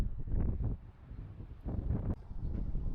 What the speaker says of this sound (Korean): 바람이 불고 오늘은 왠지 비가 올 것 같습니다.